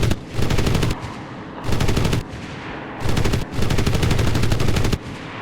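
Bursts of automatic gunfire from the World War II shooter game Enlisted, four loud sustained volleys of rapid fire separated by short pauses, no voices present.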